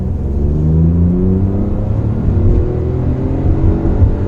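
A Hyundai i20 N Line hot hatchback's engine revs up toward 6,000 RPM, a loud, steady engine roar whose pitch climbs smoothly throughout, with no talking.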